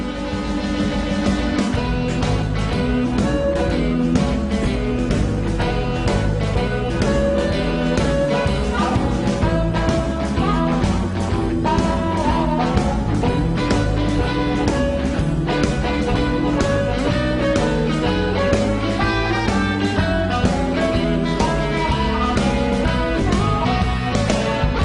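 Full band with guitars recorded live into GarageBand on a PowerBook, playing continuously with a dense, steady mix of drums, bass and guitars and no talking.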